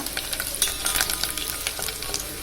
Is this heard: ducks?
no